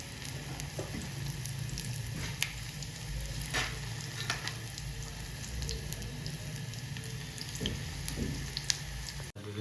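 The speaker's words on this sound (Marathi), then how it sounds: "हे बघा तळत आहे कांदे भजी" Spinach and onion bhaji frying in hot oil in a deep pan, a steady close sizzle and bubbling hiss running throughout with occasional faint pops and small clinks, no talk.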